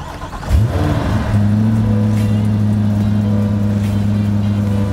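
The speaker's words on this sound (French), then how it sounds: "Je vais vous la démarrer." A Corvette C8 with its engine mounted behind the cabin cranks and fires up, the V8 flaring loudly at startup before settling into a steady, deep idle nearby.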